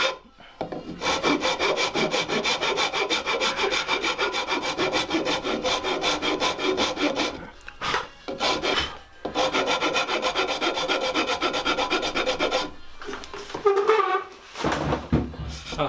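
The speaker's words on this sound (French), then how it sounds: "je peux finir tranquillou à la râpe, à la lime" Rasp and file shaping the wood of a Sam Maloof-style stool, steady back-and-forth rubbing strokes in long continuous runs with a few short pauses, close and fairly loud, no talking.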